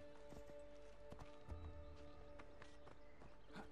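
Horse hooves clip-clopping in the video game Assassin's Creed Odyssey, a faint, regular rhythm of hoofbeats under a steady tonal game soundtrack.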